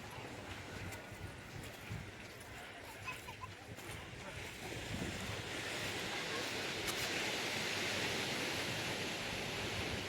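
Arabian Sea waves break on the shore at Somnath, a broad steady roar that swells louder midway and holds, mixed with wind buffeting the microphone.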